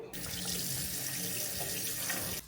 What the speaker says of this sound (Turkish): Hemen ellerimi de yıkayayım.